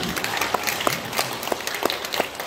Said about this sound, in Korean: 한번 격려 박수 한번 쳐주세요.